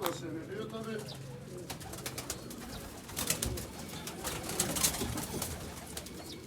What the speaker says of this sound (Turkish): Orijinal Bursa kuşu.